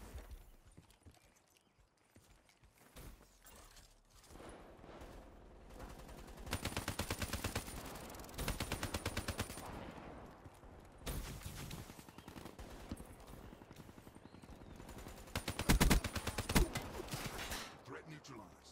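Automated hardened sentry turret in the video game Black Ops 3 firing rapid bursts of gunfire, with several loud rattling volleys separated by quieter stretches of game ambience.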